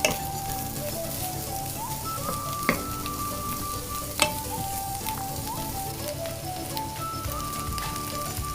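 Onions and garlic frying over medium heat in a pan, a continuous loud sizzle with a few sharp utensil clinks and knocks against the pan.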